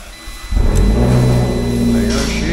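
A 2012 Fiat 500 Abarth with 96,465 miles at an auto wrecking yard cranks and catches, then settles into a loud, steady idle with a slight rise in revs, close by.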